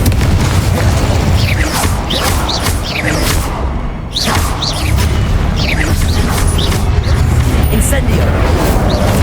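Confringo explosion spell cast in Hogwarts Legacy: loud, dense booming blasts and crackling bursts roll continuously with repeated sweeping whooshes over a heavy low rumble of combat.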